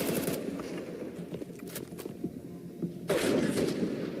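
Rifle gunfire in a Counter-Strike match, rapid bursts of shots cracking at moderate distance with a heavier close burst near the end, set against low background game noise.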